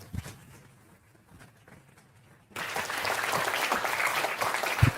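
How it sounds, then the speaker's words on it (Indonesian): Applause from a school talk audience breaks out suddenly halfway through, a loud, dense clapping that follows a quieter room with faint noises. "Tepuk tangan."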